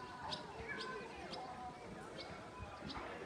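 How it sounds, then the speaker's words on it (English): Small birds chirp outdoors at a summer camp, short bright tweets repeating every half second or so, fairly faint against a background of ambient outdoor noise. "Oh, I had some birds just fly in front of us."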